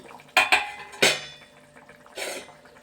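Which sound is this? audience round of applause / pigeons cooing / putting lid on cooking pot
putting lid on cooking pot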